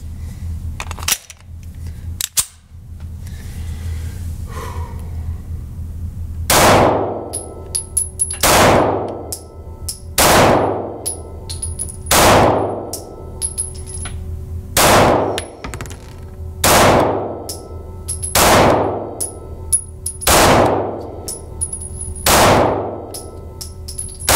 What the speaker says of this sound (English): Alright, here we go with the ATI FXS-9. We're going to shoot this at 7 yards.